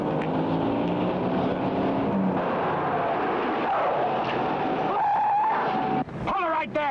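An engine hums steadily under other noise, then rises in pitch as a car draws nearer, ending with a brief high whine.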